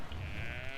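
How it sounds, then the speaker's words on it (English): A halla, a deer-like creature in Dragon Age: Origins, gives a short, loud, sheep-like bleat up close, a single nasal call over a low rumbling background. "They baa like a sheep too, which is kind of interesting"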